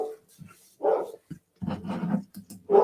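A pet dog barking and growling indoors in several short, close, fairly loud bursts, with a voice briefly audible during a live football watchalong.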